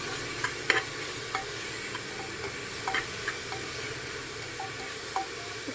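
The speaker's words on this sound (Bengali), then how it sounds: "একটু নাড়তে থাকবো, একটু নেড়ে নেবো।" Chopped garlic and ginger stirred in a frying pan: a steady soft sizzle with scattered light scraping and clicking taps of the spoon against the pan, fairly quiet and with no voices.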